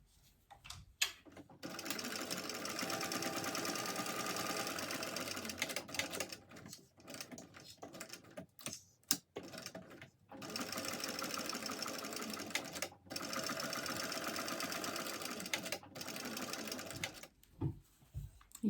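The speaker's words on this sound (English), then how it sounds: "So now I'm just going to top stitch the whole thing with 1/8 of an inch seam allowance." A sewing machine top stitches a mini backpack at a 1/8 inch seam allowance, running steadily in long stretches with a few short pauses.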